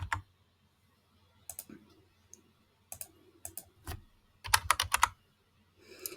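Keys on a computer keyboard clicked in short irregular bursts, with pauses between, close and fairly quiet.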